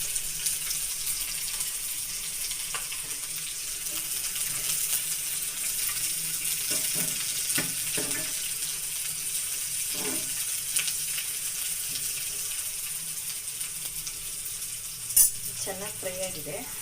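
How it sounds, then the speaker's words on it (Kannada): Green chilies and garlic fry in hot oil alongside onions, a soft, steady hiss of sizzling that carries on throughout, with occasional faint clinks and a brief sharper clatter near the end. "ನಾನು ಇವಾಗ ಹಸಿಮೆಣಸಿನ್ಕಾಯಿ ಹಾಕ್ತಾಯಿದ್ದೀನಿ ಮತ್ತು ಬಿಸಿಟ್ಕೊಂಡಿರೋಂತಹ ಬೆಳ್ಳುಳ್ಳಿ ಹಾಕ್ತಾಯಿದ್ದೀನಿ"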